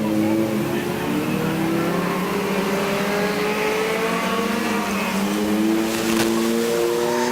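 Front-wheel-drive race cars lap the Speedrome oval, engines droning together at a steady roar with overlapping pitches as the pack runs nose to tail, with a faint commentator's voice underneath.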